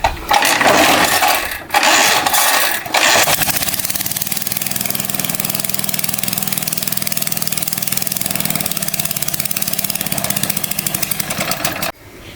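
A small Wolf lawn mower engine, restarted after winter storage, sputters through a few rough starting bursts, then settles into a steady, loud idle that runs for several seconds before cutting off abruptly.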